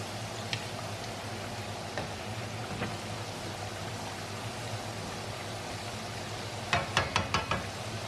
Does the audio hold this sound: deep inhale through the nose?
no